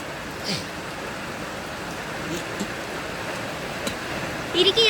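Heavy morning rain pours steadily in a village, a dense, even hiss with a few faint clicks and drips near the end.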